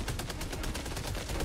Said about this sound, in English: My machine gun shot a guy.